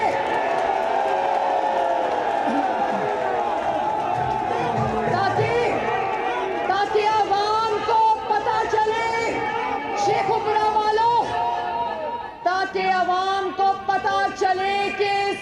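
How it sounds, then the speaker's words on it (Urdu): A large crowd at a political rally chanting slogans in loud, rhythmic unison, with voices rising and falling in repeated bursts and a steady roar of cheering underneath. "یہ نعرے جو آپ لگا رہے ہیں"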